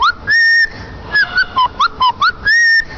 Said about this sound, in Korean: 기분도 좋으니까 휘바람 불러보자.